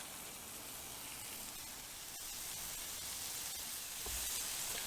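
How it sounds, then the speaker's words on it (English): Smash burgers, three-ounce patties, sizzle steadily on a hot Blackstone griddle, a continuous broad frying hiss held close and fairly loud with no voices. "We'll let them sizzle for a minute like this."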